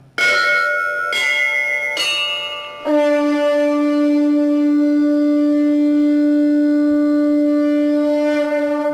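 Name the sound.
Korg Kross 2 synthesizer bell patch for bhajan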